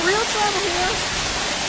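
Heavy rain mixed with hail pours down during a sudden storm in Austin, Texas, a dense continuous roar of water drumming on vehicles, with a voice faintly audible beneath it.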